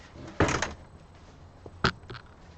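A door in a home closes twice, a soft muffled thump followed by a sharper knock a moment later, against a quiet room background.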